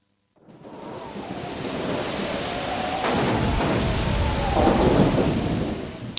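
Thunderstorm with heavy rain in the Pokémon Mystery Dungeon video game: after a silent instant, a rushing downpour builds and swells with rolling thunder rumbles, loud and continuous.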